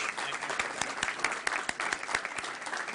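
Applause fills a board of education meeting room: a crowd claps steadily and densely, with sharper individual claps standing out through the mix, close and fairly loud throughout.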